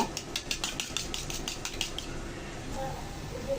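Egg being beaten with a little salt, a quick run of light clicking taps from a utensil against a bowl that slows and fades, close and fairly quiet.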